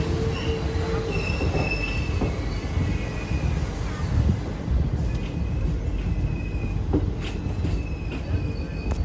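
A train rolls steadily along the rails in Tamil Nadu, a deep continuous rumble topped by high, thin wheel squeals that come and go, with no one talking.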